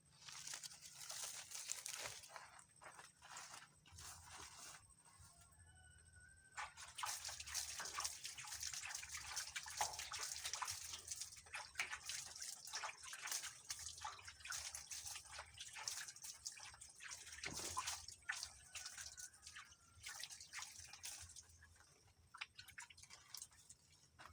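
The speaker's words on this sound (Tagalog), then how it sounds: "hugasan muna natin itong ating singkamas" Fresh singkamas (jicama) from a home garden being washed with water: quiet, close splashing, dripping and wet rubbing that goes on in irregular bursts, with a short lull early on.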